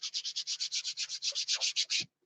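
A blocker coat is hand-sanded with sandpaper in about sixteen quick, rhythmic rasping strokes, close and fairly soft, finishing with a brief low knock.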